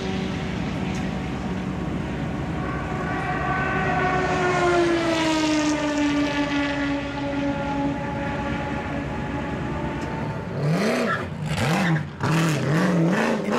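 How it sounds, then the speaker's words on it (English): A thundering V8 American muscle race car laps the infield at Daytona, its engine note sweeping down through a long pass, then sharp revving bursts as it downshifts and accelerates, loud and close. "the thundering V8 American muscle car around the infield section"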